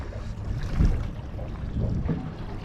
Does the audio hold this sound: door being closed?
no